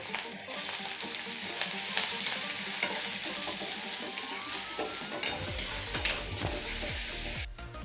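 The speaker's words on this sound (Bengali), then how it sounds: "আদা রসুন পেঁয়াজের সাথে কিছুক্ষণ নেড়ে নেব" Onion with ginger and garlic paste stirred and frying in a pan for matar paneer, a soft continuous sizzle with repeated scraping strokes of a spatula, close and fairly quiet, no talking.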